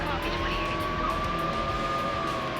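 Silver Porsche Carrera GT driving in Need for Speed: Hot Pursuit 2, a sustained engine whine holding one steady pitch with a slight rise and fall, loud and continuous with game noise beneath.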